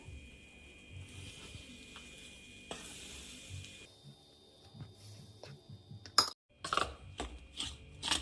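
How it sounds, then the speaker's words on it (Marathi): Very hot oil stirred with a spoon into wheat flour dough for traditional jaggery papdi, a quiet crackling sizzle and scraping close by, followed near the end by louder bursts of spoon and bowl clatter. "चार चमच यामध्ये तेलाचं मोहन ॲड करायचं आहे छान असं कडकडीत गरमच आणि असं मिक्स करायचं आहे"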